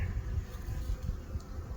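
Honey bees in a bee yard on a warm January day hum with a low, steady, continuous drone, close and moderate in level, with no talk.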